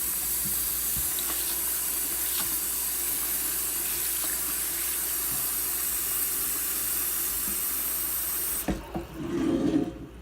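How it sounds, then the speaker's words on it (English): Tap water runs steadily into a pot of rice being rinsed of starch, a constant close hiss and splash that cuts off near the end, followed by brief sloshing of the grains in the water. "So I'm going to put water in the rice."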